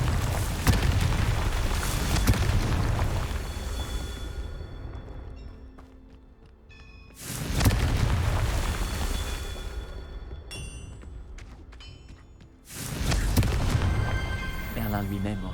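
Confringo fire spell blasts in the Hogwarts Legacy video game, three loud booming explosions spaced several seconds apart, each with a roaring tail that fades before the next.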